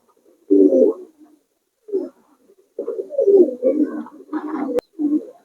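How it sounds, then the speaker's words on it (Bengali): Giribaz and Pakistani high flyer pigeons coo close by in a series of low, throaty bursts separated by short pauses, with a sharp click near the end. "অনেক কবুতর আছে এদিকে।"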